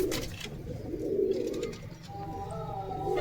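Domestic pigeons from a Beldanga market collection coo in repeated low throaty rolls close up, steady across the moment with no talk, a few faint chirps behind.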